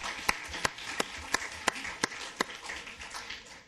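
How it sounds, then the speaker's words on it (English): Slow, sparse hand claps at a regular city council meeting, about ten crisp distinct claps spaced evenly over a quiet room background. "You can clap now."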